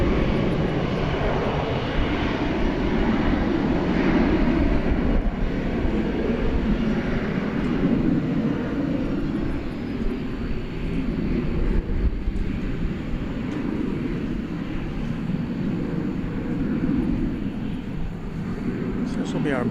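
An American Airlines jet at Dallas/Fort Worth Airport at night gives a steady, loud engine rumble and whine throughout, with a voice talking over the noise.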